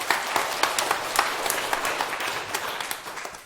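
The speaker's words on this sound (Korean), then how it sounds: "박수 한번 부탁드립니다" A small audience at a Buddhist lecture claps steadily, the individual hand claps distinct and close, forming a continuous round of applause that eases toward the end.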